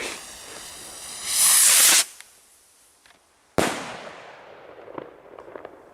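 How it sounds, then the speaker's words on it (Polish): A Perfect R20072 firework rocket launches with a rising whoosh and hiss lasting under a second, then a sharp crack, followed by a sputtering fizz and scattered pops. "Także odpalamy pierwszą rakietę"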